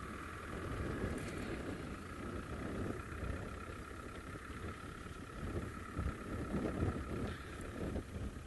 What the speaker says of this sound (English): this wind is very